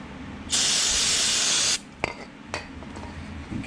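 Brief aerosol burst of contact cleaner onto a microfiber cloth during brake rotor cleaning, a bright close hiss lasting just over a second, followed by a few light clicks and handling noises over a low hum.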